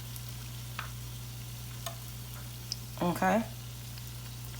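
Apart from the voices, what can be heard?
conch fritters frying in oil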